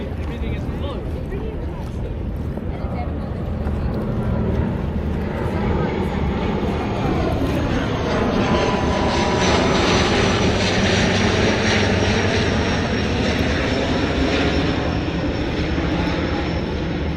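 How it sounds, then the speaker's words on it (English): A propeller airplane flies in to land at Billy Bishop airport on the Toronto waterfront, its engine drone swelling from a distant hum to a louder steady roar and then holding. "that plane is going to land at Billy Bishop"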